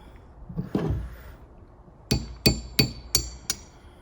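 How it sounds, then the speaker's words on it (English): A hammer strikes a punch pin to drive a dowel pin through a JX series miter gear, giving five sharp metallic taps at a steady rhythm after a softer earlier knock, close up with no talk. "Then grab your punch pin and your hammer and go ahead and make sure the hole with the drive shaft and the hole on the dowel pin with the miter gear is lined up."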